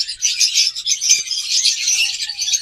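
Violet-masked lovebirds give a dense, continuous chorus of shrill chirps and twittering calls, close and steady throughout with no pauses.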